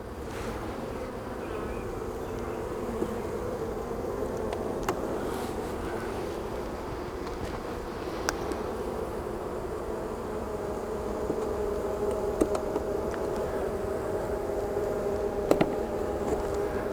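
Honey bees buzz steadily around a hive in spring, a dense continuous drone close by with faint wind, a few brief clicks, and no speech.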